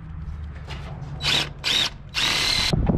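A power drill with a left-hand bit whines through metal in three bursts, the last one longest, over a low steady hum.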